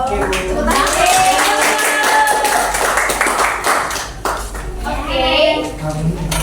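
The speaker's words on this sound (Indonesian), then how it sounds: "Tepuk tangan." Schoolchildren clapping their hands together in a classroom, a burst of fairly loud, uneven claps mixed with chatter and children's voices, with a teacher's voice rising near the end.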